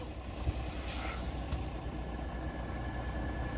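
A fire truck's engine rumbles low and steady as it maneuvers to fit under a stuck cattle trailer and lift it, a continuous close drone with no talk over it.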